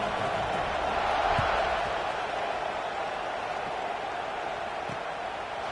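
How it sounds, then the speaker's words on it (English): A football stadium crowd murmurs and buzzes after a score, a broad steady wash of distant voices and noise with a brief swell early on. "this crowd is buzzing after that last score"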